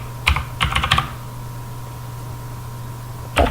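Typing on a computer keyboard comes as a short, close cluster of key clicks, then a pause over a steady hum, and ends with one more keystroke.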